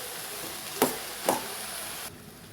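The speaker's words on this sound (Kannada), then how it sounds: "ಎಲ್ಲ ಚೆನ್ನಾಗಿ ಮಿಕ್ಸ್ ಮಾಡ್ಕೊಳ್ಳೋಣ" Radish greens and curry leaves stir-fried in a pan, a spatula giving two quick scraping knocks about half a second apart over a soft steady sizzle that drops away near the end.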